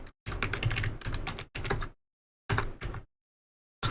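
Typing on a computer keyboard while network settings are entered on an Ubuntu system, heard as dense bursts of clicking keystrokes in short runs separated by silent pauses, close and alone.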